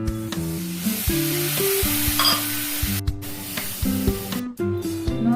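Ivy gourd curry sizzles in a pan with masala and tamarind juice while a spoon stirs and scrapes through it, with steady tonal music playing over the cooking noise throughout.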